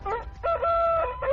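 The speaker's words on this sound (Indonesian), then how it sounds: "Suara ayam tetangga menyadarkan Alira dari tidur nyenyaknya" A neighbour's rooster crows close and loud, with a clear, drawn-out cock-a-doodle-doo over a short lead-in call, and no other sounds alongside it.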